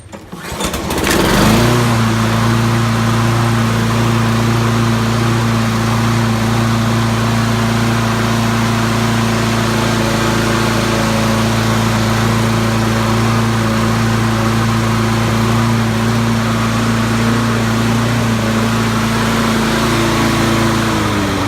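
A Toro Personal Pace self-propelled lawn mower, propped on a block after a belt replacement, starts with a sharp pull and then runs at a steady, loud, close drone with an even engine hum throughout.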